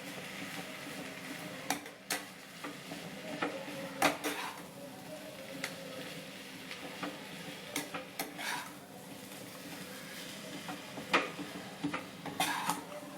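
Rice sautéing in a pan for mango rice, soft sizzling under irregular clinks and scrapes of a spoon against the pan, fairly quiet and close.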